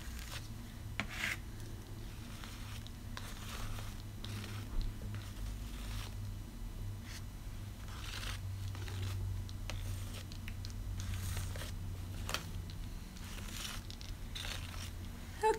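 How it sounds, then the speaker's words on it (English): Paint being scraped across a stencil, a soft continuous rubbing and rasping with brief scratchy strokes, fairly quiet and steady throughout, no talking. "I'm going to scrape it off in areas and then lie it down in others."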